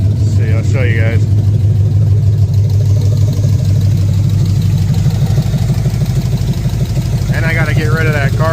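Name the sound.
Cadillac Fleetwood hearse 454 engine running without exhaust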